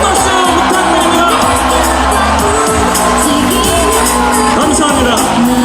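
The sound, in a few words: crowd applauding and cheering at a political rally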